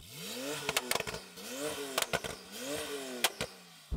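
A Porsche 911 Turbo tuned to 1000 hp is revved in three quick rising sweeps, each ending in sharp popping and crackling bangs, fairly close and alone.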